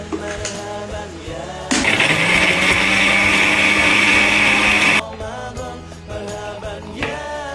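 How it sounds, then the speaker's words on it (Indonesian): A blender whirs loudly for about three seconds, mixing milk, ice cream and chopped chocolate, starting and stopping abruptly between quieter kitchen sounds. "Dipotek-potek, terus dimasukin ke blender."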